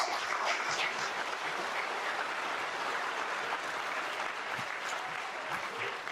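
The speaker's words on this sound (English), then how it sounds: "I think he deserves a big applause." A hall audience at a felicitation ceremony for student achievers applauds a top-ranked student with steady, continuous clapping, moderately loud and evenly sustained.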